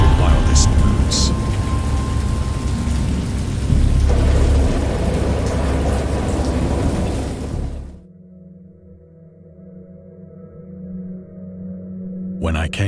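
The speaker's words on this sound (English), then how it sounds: "I heard pearls of thunder and other tones which nature utters only in her wildest moods." Heavy rain pours and thunder rolls loudly for about eight seconds, a dense roaring wash, then drops away to a quiet low drone.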